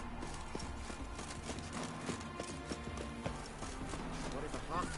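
Roach the horse's hooves clip-clopping in The Witcher 3 video game, a steady run of muffled hoofbeats under game music, with a voice speaking over them.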